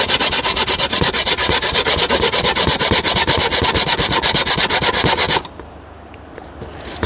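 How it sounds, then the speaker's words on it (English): Coconut is grated by hand on a grater for Jamaican banana porridge, giving loud, close, rapid rhythmic rasping strokes for about five seconds before stopping abruptly into quiet. "start grating the coconuts"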